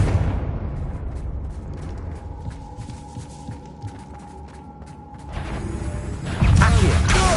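A Confringo fire spell in Hogwarts Legacy lets out a deep, throbbing rumble and hum, which swells into a louder fiery burst near the end.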